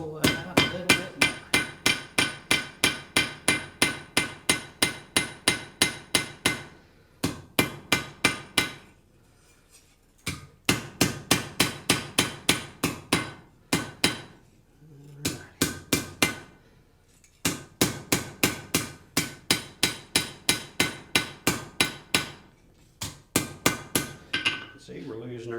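A hammer strikes hot horseshoe steel on an anvil in fast, ringing bursts of evenly spaced blows, each volley broken by short pauses before the pounding resumes, loud and close.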